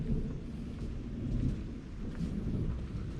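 Florida rainstorm with a low, continuous rumble of thunder under steady rain, heard at a moderate level with no talk over it.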